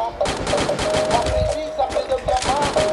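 Rapid bursts of gunfire from a battle royale video game crack out repeatedly in quick irregular volleys, loud and close, with a faint steady tone underneath.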